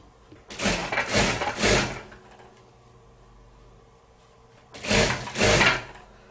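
A sewing machine runs in two short whirring bursts, stitching the seam of a frilled fabric tissue cover, with a quiet pause between runs and no speech.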